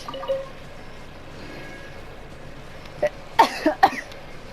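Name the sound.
cough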